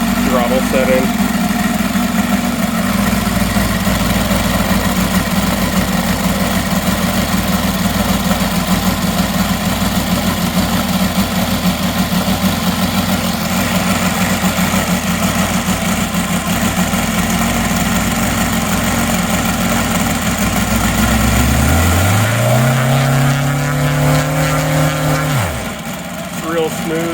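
A UMS 7-90 seven-cylinder radial gas engine runs loud and steady close by at a throttle setting near 1,500 RPM. Its note drops sharply near the end, and a voice is heard faintly under it.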